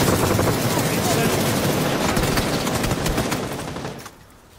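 Gunfire in the battle royale game PUBG on Xbox: dense rapid shots crackle continuously and loudly, close by, then cut off near the end, with a player's voice talking underneath.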